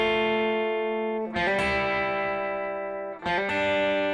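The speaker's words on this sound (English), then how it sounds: "Okay, so we've got this opening riff, which sounds like this." An electric guitar riff with sustained ringing notes, played twice with a short pick-scrape break between phrases, alone and moderately loud.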